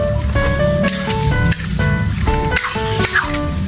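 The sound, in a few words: stirring beef skin adobo in a pan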